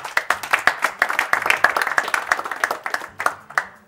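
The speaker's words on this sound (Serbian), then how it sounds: "Aplauz." Audience applause at a school debate competition, a steady burst of clapping from many hands that lasts several seconds at moderate loudness, with scattered louder claps standing out and no talking over it.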